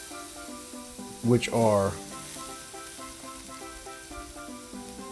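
Shrimp sizzle on a Blackstone griddle, a steady frying hiss with a brief louder spray-like burst, beneath someone talking over background music.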